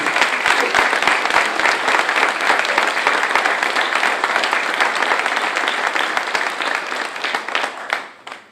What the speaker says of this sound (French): Je crois qu'on peut encore les applaudir.